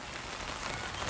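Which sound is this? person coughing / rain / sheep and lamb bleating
rain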